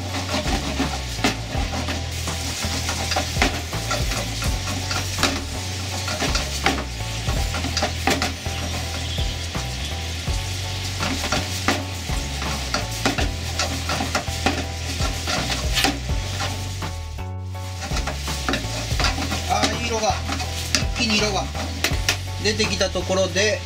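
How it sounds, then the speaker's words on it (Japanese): Potatoes simmering in a pan for nikorogashi are turned and stirred continuously, giving a loud, dense sizzle with scraping and clattering of the utensil against the pan, close by and steady throughout. "しっかり返してどんどん色をつけていきます。"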